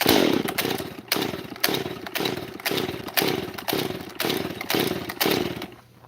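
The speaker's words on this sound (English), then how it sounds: "We'll pull it 3 or 4 more times, just to make sure it's really good and flooded." A chainsaw's starter cord is yanked again and again to flood the engine, each pull a rasping, sputtering stroke in a steady rhythm of about ten close, loud pulls without the saw catching.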